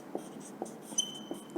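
A teacher writes on a board during a classroom grammar lesson, a series of soft, evenly spaced taps and scratches, faint and close with quiet room tone.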